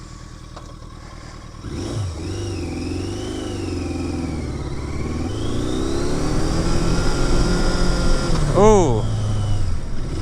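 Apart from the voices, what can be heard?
Yamaha XJ650 Turbo motorcycle engine revving, low power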